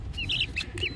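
Small birds, a hen's chicks, peep in high, quick chirps, three or four short calls close by over a low background hum.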